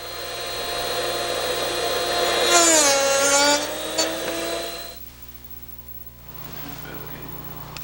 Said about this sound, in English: Now watch as a bit is aligned, then sharpened.